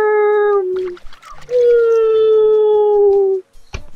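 A dog in the video game Ryu Ga Gotoku Ishin lets out two long, loud tonal howls, separated by a short gap and followed by a brief sharp noise.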